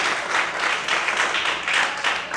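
A church congregation applauds during a Sunday morning sermon: sustained, fairly loud clapping in waves that swell and ease across the room, with no voices on top.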